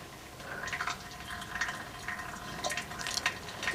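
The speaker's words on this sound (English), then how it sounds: "it starts to drip oil off of most of the skid plate" Engine oil dripping off the skid plate under a 2006 Duramax truck, a faint scattered patter of drips and trickling over a low steady background hiss, no talking.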